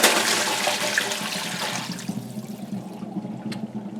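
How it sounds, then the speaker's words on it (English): Soaked cashews drained of their water, a loud rushing pour that fades to a quiet trickle with a few faint drips near the end. "First thing is to drain your soaked cashews."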